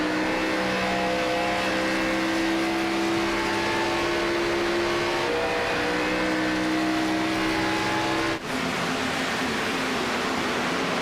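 A stock race car engine in a racing game at Darlington Raceway, a steady, loud droning whine held at near-constant pitch with a slight dip partway, close and continuous, no talk.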